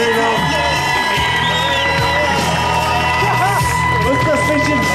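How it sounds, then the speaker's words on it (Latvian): Crowd at a street workout world championship cheers and whoops loudly for an athlete, dense continuous shouting and yelling close by, with scattered applause under it. "Aplausi viņam!"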